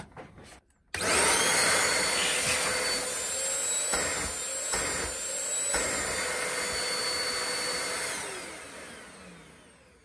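A Mirka DE1025L dust extractor switches on after a second of quiet and runs with a loud, steady roaring whoosh and high whine, fluctuating slightly, then winding down toward the end.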